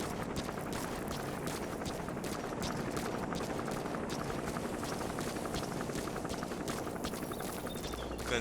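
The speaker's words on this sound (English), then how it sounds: "Gunship is getting the hell up out of here." A helicopter gunship in Metal Gear Solid 5 flies off, giving a steady, dense rotor chop with rapid blade pulses over a constant wash of in-game noise.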